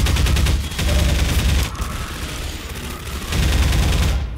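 Rapid bursts of automatic gunfire in the game Half-Life 2, loud and close, in two sustained volleys separated by a brief lull.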